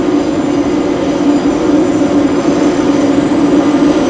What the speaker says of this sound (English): What I'm going to do is up full flaps and gear down.